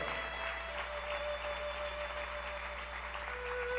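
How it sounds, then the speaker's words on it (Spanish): Church congregation applauding during a Spanish-language sermon, a steady wash of clapping sustained throughout at moderate level with a faint tone running beneath. "Dale un aplauso al Señor con todo tu corazón."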